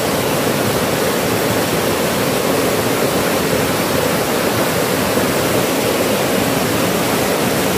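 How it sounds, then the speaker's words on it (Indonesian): Flowing river water beneath a bridge, a steady dense rushing roar that stays loud and unbroken throughout, with no other sounds standing out and no voices. "Oh sungai bro, bukan sumber. Sungai."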